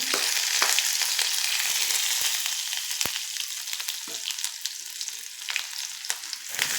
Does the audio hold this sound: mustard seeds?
yes